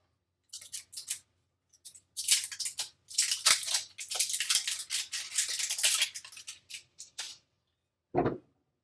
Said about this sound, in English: So let's take the plastic off.